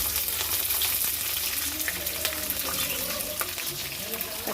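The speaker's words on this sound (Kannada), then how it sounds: "ಆಮೇಲೆ ಭಾಳ ಫ್ರೈ ಮಾಡಬೇಕು" Green and dried chillies frying in oil in a pan, a steady, moderately loud sizzle with small crackles and occasional light stirring scrapes.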